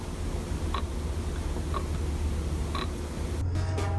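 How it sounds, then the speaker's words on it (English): Dashboard clock in a stock 1987 Porsche 911 Turbo (930) ticking faintly inside the quiet cabin, three soft evenly spaced ticks about a second apart over a low idle hum, ending with a brief rustle. "if you listen very carefully, you can actually hear the clock ticking."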